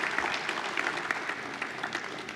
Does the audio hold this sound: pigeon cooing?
no